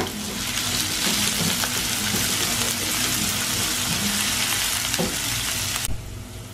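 Onions frying in a pan of oil for a halwa puri curry, a loud, steady sizzle running without pause for most of the clip before cutting off abruptly near the end.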